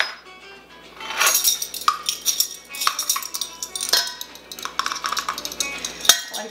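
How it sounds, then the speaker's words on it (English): A whisk clinks and scrapes steadily against a bowl as corn flour (masa harina) and baking powder are mixed dry for tamales, a busy close-up run of light metallic ticks with no talking. "I like to do all my dry ingredients first and whisk those through."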